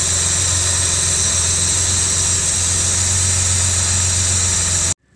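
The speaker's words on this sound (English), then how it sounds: "Carburetors are finally working." A Series 2 Jaguar E-Type engine runs on a new set of triple SU carburettors, a steady, loud idle with a deep low hum and even drone throughout, cutting off abruptly near the end.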